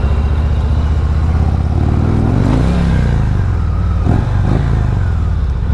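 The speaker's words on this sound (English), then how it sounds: "can you hear the exhaust? It is amazing." A big Harley-Davidson Road Glide rumbles steadily and loudly up close, its exhaust throbbing with a deep continuous drone and a couple of brief revs near the end.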